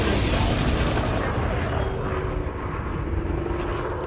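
A dense, roaring beam of laser weapon fire from the Elite Dangerous space game rushes steadily and loudly for several seconds, underlaid by a low continuous hum.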